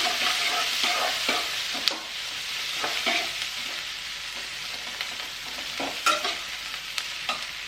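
Turmeric being stirred into a hot pan of frying food, with a steady close sizzle and repeated scraping taps of the spoon against the pan.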